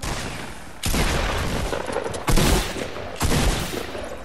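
Gunfire in the video game Fortnite, loud and close, with three sustained bursts of rapid fusillade-style shots, each starting with a sharp onset and rolling on for about a second or more.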